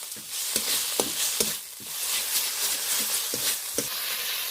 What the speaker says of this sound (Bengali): চিনিটা এবার ভালো করে মিশিয়ে নেব।